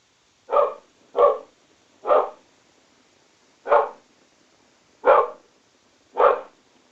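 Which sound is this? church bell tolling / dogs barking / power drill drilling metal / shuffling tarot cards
dogs barking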